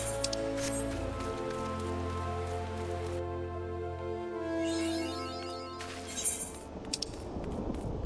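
Rain falling in the Final Fantasy 14 game world, a steady hiss of drops on surfaces mixed with layered game music, fairly loud and continuous throughout.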